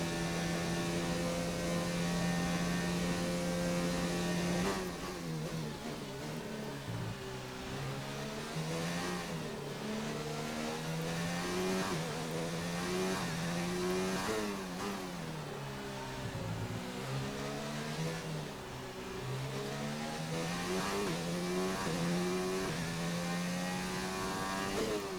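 A Formula One car in a racing video game at the Russian Grand Prix revs hard, its engine note climbing and dipping through gear changes in a continuous high-pitched whine, with no talk over it.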